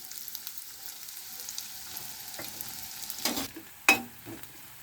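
One onion frying in hot oil for Egg Maggi, a quiet steady sizzle with a couple of louder stirring scrapes near the end.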